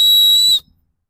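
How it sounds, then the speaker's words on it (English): A survival whistle from a dog bug-out bag gives one loud, piercing, steady blast of about half a second, close to the listener, then cuts off abruptly into silence. "So that's what a whistle sounds like if you never heard one before."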